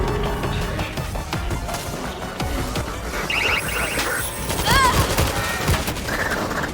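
Army auto turrets open fire on zombies in the World War Z video game, a dense, continuous rattle of rapid gunfire mixed with other game effects and some voices.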